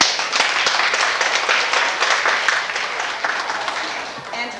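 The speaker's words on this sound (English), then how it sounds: "So I'd like for everyone to give each other a round of applause for all your hard work." Audience applauding healthcare center volunteers, a dense, sustained burst of clapping from a sizable crowd that holds steady then slowly thins toward the end.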